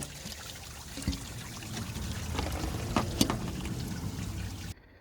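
Antifreeze draining from the thermostat housing of a 7.3 engine, a steady trickling, pouring rush of liquid with a few louder splashes, close by and alone, cutting off abruptly at the end.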